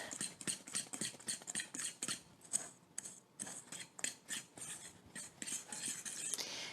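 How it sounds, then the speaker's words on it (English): A fork scraping and tapping against a bowl while mixing dry muffin ingredients with baking powder, quick rhythmic strokes repeating about twice a second, crisp and close with no talking. "Mixing together the dry ingredients."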